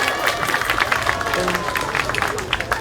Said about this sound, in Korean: 우리 시민분들, 우리 어른분들 크게 한번 박수 한번 주세요